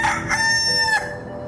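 A rooster crows loudly and close by in one long drawn-out call with a clear ringing tone, alone without any talk.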